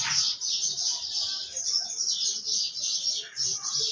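Birdsong and chirping from pigeons kept in a large loft, a busy continuous chatter of calls close by with soft low cooing underneath and no voices.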